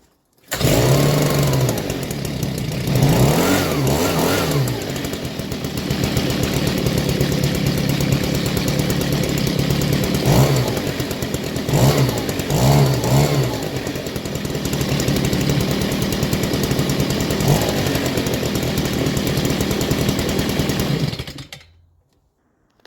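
A Stihl BG85 leaf blower with a newly installed carburetor starts on choke and runs loud and close for about twenty seconds, its two-stroke engine revving up and down in several bursts before cutting off.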